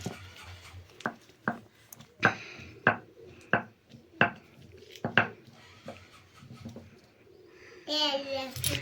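Jujubes being crushed for a chutney of kul, chili, salt and oil make a series of sharp, irregular pounding thuds, about a dozen close strikes spaced roughly half a second apart, with a voice breaking in near the end.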